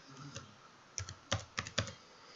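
Keys tapped on a computer keyboard to type a short word, a handful of crisp, close clicks in quick irregular bursts over quiet room tone, with no one speaking.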